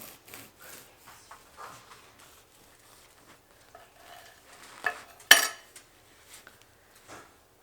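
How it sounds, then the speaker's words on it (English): A knife works through a cooled loaf of homemade sourdough sandwich bread in quiet, soft sawing strokes with faint crumbly rasps, building to one sharp crackling cut near the middle, close and isolated with no talk. "my loaf of bread has cooled, and we're going to slice it and we're going to try some"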